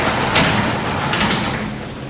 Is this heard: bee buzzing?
no